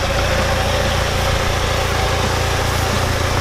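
A Mitsubishi Evo engine runs steadily just after starting, a loud, continuous idle rumble close by with no talk over it.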